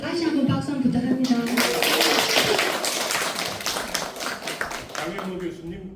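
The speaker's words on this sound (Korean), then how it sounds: "다시 한번 박수 한번 부탁합니다" An audience at a university literary lecture event claps for a teacher, crisp rapid clapping swelling for several seconds between stretches of a speaker's voice at the start and end.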